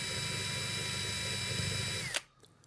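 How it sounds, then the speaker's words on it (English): A small drill whirs steadily at close range for about two seconds, drilling the post of a die-cast Hot Wheels Porsche 911, then winds down and stops, leaving near silence. "And then we can go ahead and drill."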